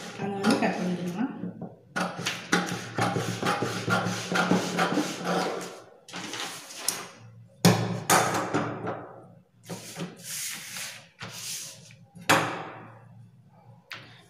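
Scissors cut along a black line on blouse pattern paper, making crisp, close snips and paper rustles in uneven bursts with short pauses.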